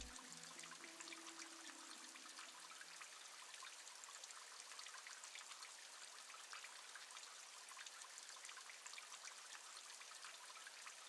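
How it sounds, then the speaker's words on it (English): Steady trickling water in Myst V: End of Ages as stone holes fill, a continuous hissing stream at moderate level with no break, heard alone. "Yeah, these are filling with water"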